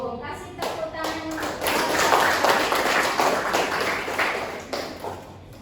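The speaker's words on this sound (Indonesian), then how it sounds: "Kasih tepuk tangan." Students in a school guidance-counselling class clap together after a group presentation on career plans, with a few sharp hand taps first, then a dense burst of close clapping that carries on for several seconds before tapering.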